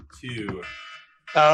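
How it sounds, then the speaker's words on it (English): A phone or clock alarm goes off abruptly at the end, a loud, bright electronic beeping tone that cuts in after brief speech. "That's my alarm."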